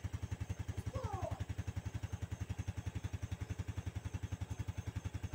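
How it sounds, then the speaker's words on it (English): A motorcycle engine idling nearby with a steady, fast, even chugging pulse, one short chirp sounding over it early on. "So the engine is running."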